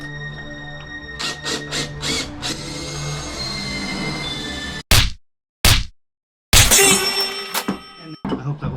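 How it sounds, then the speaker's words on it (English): A power drill bores dot holes in a fretboard in short bursts: several quick whirring pulses, a pause, then a few sharp isolated drilling hits and a final longer grinding burst. "we're going to drill for the dots"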